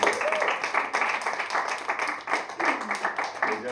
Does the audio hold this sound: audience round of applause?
yes